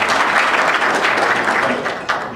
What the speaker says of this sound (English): So by round of applause, how many of you think that the people that we're referring to are Hispanic?